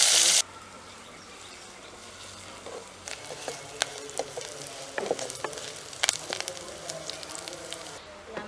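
Onion sautéing in oil with mustard seeds and fennel, a quiet steady sizzle with scattered sharp pops and crackles of seeds spluttering, after a brief loud burst at the start.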